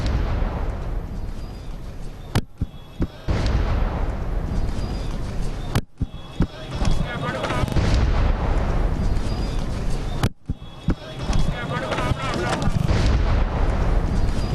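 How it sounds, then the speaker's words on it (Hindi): A bomb blast in a Lahore street, caught on a CCTV camera, comes through as three sharp, loud bangs several seconds apart over a constant rumbling, distorted background roar. "जिस वक्त धमाका हुआ, धुएं के बादल फजा में बुलंद हुए और गाड़ियों को आग लग गई"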